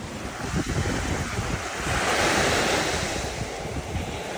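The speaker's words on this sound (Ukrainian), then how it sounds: "на морі шторм" Rough sea surf in a storm crashes and roars continuously, mixed with heavy wind buffeting the microphone, loud and unbroken.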